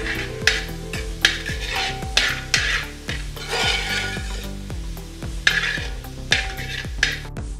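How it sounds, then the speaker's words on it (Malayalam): Green chillies and curry leaves sautéing in a pan while a spoon stirs and scrapes against the metal, giving repeated sharp clinks over a low, steady sizzle. "അല്പം കറിവേപ്പില കൂടെ ചേർത്ത് നമുക്കിത് നന്നായി ഒന്ന് സോട്ട് ചെയ്തെടുക്കാം"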